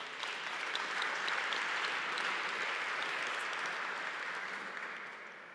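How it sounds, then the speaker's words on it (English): Steady applause from a keynote audience at a tech conference opening, a dense even clatter of clapping that holds for several seconds before tapering slightly at the end, with no talking over it. "Some applause, please."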